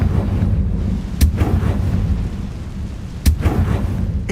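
Two heavy blasts from the Confringo fire-blast spell in Hogwarts Legacy, each a sharp crack followed by a rolling boom, set a couple of seconds apart over a low background rumble.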